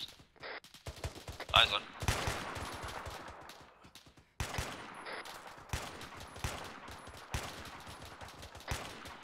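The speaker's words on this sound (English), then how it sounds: "we're taking grenade fire of some sort into the town" Grenade fire lands in a town during an ArmA 3 military operation: a series of sharp, loud blasts and cracks at irregular intervals, mixed with distant reports. A voice talks briefly over the gunfire.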